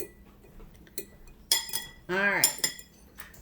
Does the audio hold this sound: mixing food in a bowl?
yes